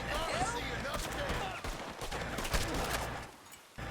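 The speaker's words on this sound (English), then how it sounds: "like I was hearing gunshots" Gunfire in the western video game Red Dead Online comes as a quick flurry of shots, moderately loud, mixed under ongoing talking.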